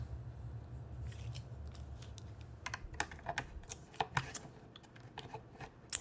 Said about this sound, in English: we just need to remove this T15